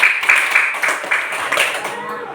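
A fourth-grade class clapping for a student, a short, close burst of quick rhythmic handclaps that slows and fades.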